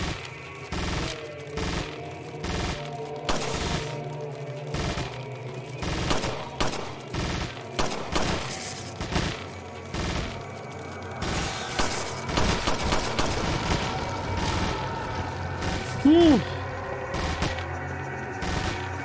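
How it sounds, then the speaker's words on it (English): Gunfire rattles through a Resident Evil 4 fight as Leon panic fires, with repeated rapid bursts and single loud shots over a low rumbling background, fairly close and sustained throughout. "Leon is still panic firing."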